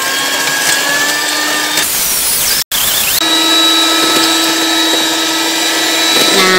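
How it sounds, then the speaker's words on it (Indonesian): An electric hand mixer whirs loudly and steadily while beating sponge cake batter until thick, cutting out briefly once and then resuming at the same high, even pitch. "ini di mixer sampai mengental sekitar 6-7 menit tergantung kecepatan mixernya ya"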